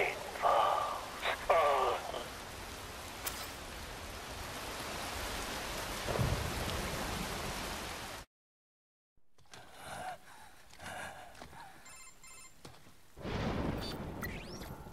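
Rain pours in the video game Metal Gear Rising: Revengeance, a steady wash broken by thunder rumbles, then a sudden drop to silence before the downpour returns, fainter and then building again.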